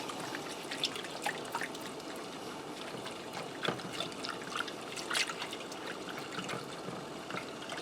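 Beef broth poured and whisked into flour in a bowl for skillet beef stroganoff, a soft continuous trickle and splash with faint stirring, quiet and steady throughout, with no voices.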